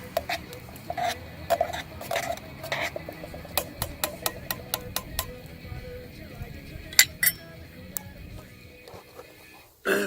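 Steeped camp coffee is stirred in a pot outdoors in the Colorado mountains, a spoon ticking and clinking against the metal in a quick steady series of light taps, close but soft, then a brief louder knock at the end.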